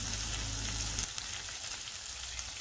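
Ginger garlic paste fries in a pan with a constant crackling sizzle, close and even, while a low rumble in the first second cuts off and the frying carries on alone.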